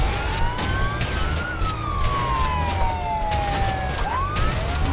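Police car sirens wail continuously in the co-op video game A Way Out during a car chase, sliding pitch sweeps over a steady engine and road rumble, loud and close with no talk.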